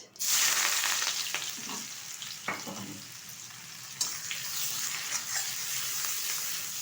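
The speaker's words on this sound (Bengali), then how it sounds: "হালকা করে পেঁয়াজটা ভেজে নেব" Chopped onion frying in hot oil with whole cumin seeds gives a steady, close sizzle that fills the whole stretch, with a few stirring scrapes and clicks along the way and no voices.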